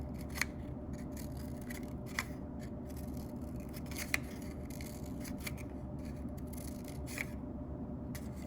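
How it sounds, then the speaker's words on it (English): Scissors cut slits up from the bottom of sturdy cardboard, giving steady close crunching and snipping with a few sharp snaps along the way and no talking. "from the bottom, you're gonna cut some slits up"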